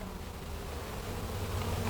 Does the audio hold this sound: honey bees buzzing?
yes